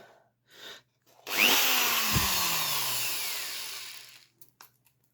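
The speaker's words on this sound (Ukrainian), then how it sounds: "Будемо свердлити наскрізь." A power drill starts abruptly and whines steadily as the bit bores through metal on a homemade plant grow lamp, its pitch dropping under load before it winds down and stops.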